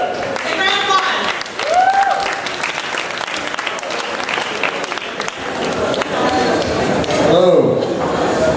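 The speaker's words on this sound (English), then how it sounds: "Big round of applause." Loud, sustained applause and cheering from an audience at a Nerd Night talk in Phnom Penh, a dense wash of clapping with a few whoops and voices over it, holding steady for the full length.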